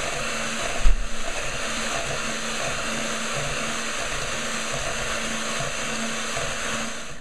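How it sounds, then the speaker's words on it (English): An electric mixer whirs steadily through a bowl of soft simmered apples, a continuous motor hum with a brief bump near the start, close and alone with no talking. "You can mix them with a mixer, or you can mash them."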